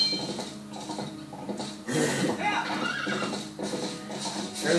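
A horse gallops in Zelda Twilight Princess, hooves pattering with a brief whinny amid game sounds, moderately loud and continuous.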